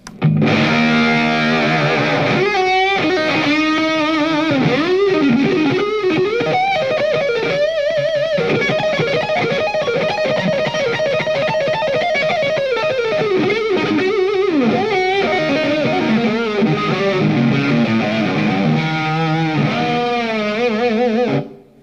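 Electric guitar lick played through heavy distortion, a continuous loud run of bent and sustained notes filling the whole stretch without pause.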